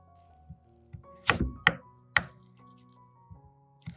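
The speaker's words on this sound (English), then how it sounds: "If using larger potatoes, cut them into slices about 2 to 3 fingers thick" A knife chops potatoes into thick slices on a board: a cluster of three sharp, close thunks near the middle, with softer taps before and after in an otherwise quiet room.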